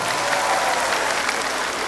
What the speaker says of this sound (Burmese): အသိဒီကိုလည်းပဲကောင်းချီးပေးပြီးတော့လက်ခုပ်တီးပေးရအောင်